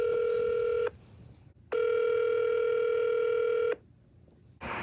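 A telephone line gives a ringback tone while a call is placed back: two long, steady electronic tone bursts separated by a gap of near silence, clear and close, with no talking.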